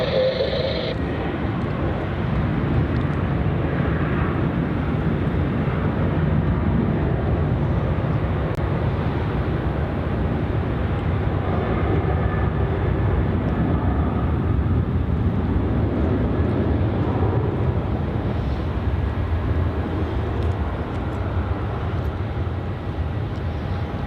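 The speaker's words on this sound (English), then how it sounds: "Departing now, we have Virgin Australia flight VA 1293 to Cairns. Another 737-800." A Virgin Australia Boeing 737-800 departs Melbourne Airport for Cairns, its jet engines giving a broad, continuous roar that holds steady and fairly loud throughout, with no talk.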